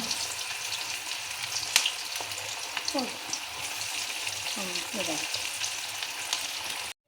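Vazhaipoo (banana flower) vadai sizzles in hot oil with a steady, close frying hiss, broken by a few sharp spatters and pops, with faint voices and kitchen clatter underneath.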